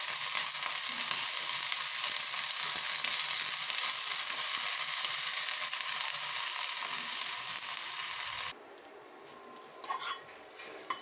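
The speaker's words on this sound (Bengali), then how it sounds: "সজনে ফুলের ভাজা করব, বেগুন দিয়ে ভাজা।" Eggplant and drumstick flowers fry in a pan with a loud, continuous close sizzle that cuts off abruptly near the end, leaving faint clinks of utensils.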